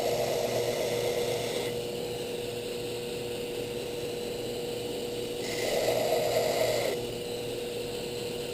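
A faded plunge on a knife blade's hollow grind is blended against an abrasive grinder, giving a steady, close rasping hiss that swells louder for a second or so near the end, with no talk.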